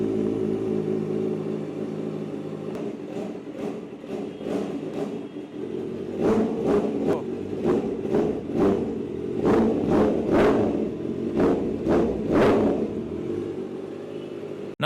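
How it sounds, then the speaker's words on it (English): A Kawasaki ZX-4R race-style exhaust with its valve fully open, revving in a string of sharp, loud blips that climb and fall quickly over a steady idle, bursts growing more aggressive toward the end, no talk. "if we want full aggressive race bike sound, we open it up"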